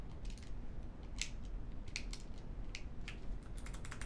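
Computer keyboard keys are tapped in quick, uneven clicks during a gaming stream, faint and close over a steady low hum.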